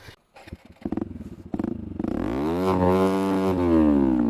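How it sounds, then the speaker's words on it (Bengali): A fully modified 4V motorcycle with an aftermarket cut exhaust coughs, then rumbles up to a loud, throaty, sustained rev close by. The engine note swells and holds with no talking over it. "আর পিছনে তো ফুললি মডিফাই কাটা আছে এই তো এই হচ্ছে আমাদের মডিফাই করা বাইক"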